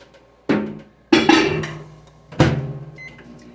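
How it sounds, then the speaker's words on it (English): A microwave oven heating a whisked dish gives three sharp clunks, each ringing out and fading. Faint beeps sound near the end, with no voices. "Usually takes a total about 6 minutes in the microwave, but what I do is I'm going to put it in there for 3"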